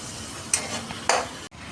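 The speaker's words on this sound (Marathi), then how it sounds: "आपण हलवून घ्यायचं." Onions with ground masala sizzle in a pan, with two short scraping stir strokes cutting through the steady frying hiss before a brief drop.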